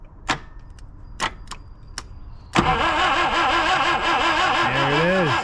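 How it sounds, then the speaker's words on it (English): A few sharp clicks, then the engine of an old, long-abandoned Mercedes Ponton cranks over loudly and slowly with a rhythmic pulsing churn that keeps going. "I'm actually surprised that's cranking so slow,"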